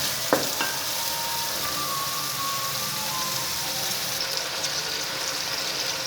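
Tomatoes and green chillies frying in a pot for palak gosht, a continuous even sizzle with a sharp clink of a utensil near the start, no talk.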